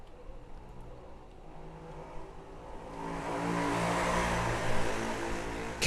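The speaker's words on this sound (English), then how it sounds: "Yeah, scooters are loud." Loud scooter engine in a Minecraft game, a droning motor that builds from a lower idle into a louder, brighter roar partway through and stays strong to the end, with no talk over it.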